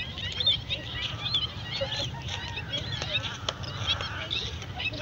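A flock of geese honks continuously over a loud wind-like rumble outdoors at a drained fish pond where they feed, many overlapping calls at a distance, with a faint voice underneath.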